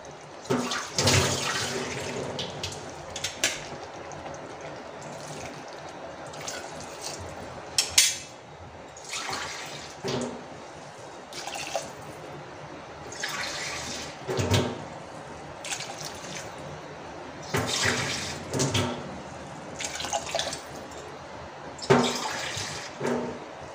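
Water is poured in several bursts into a pot holding two and a half cups of rice for a pressure cooker, a close, splashing fill with short pauses between pours and no talk.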